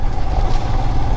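A motorcycle engine at night on a Kerala road runs as a steady, close, unbroken rumble for the whole moment, with no voices.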